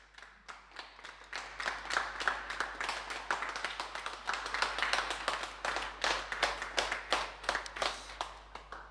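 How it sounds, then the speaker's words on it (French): An audience claps steadily in a school performance TV show setting, building to a dense burst of applause that swells and fades in waves, with no talking over it. "Je vous demande d'applaudir Clémence Marin."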